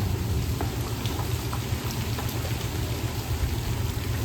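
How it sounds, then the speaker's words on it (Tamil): Steady rain falling outside a house, a dense continuous wash of close, loud patter with no breaks and no voices over it. "மழை பெய்யுது நான் உள்ளே வந்திருக்கேன்"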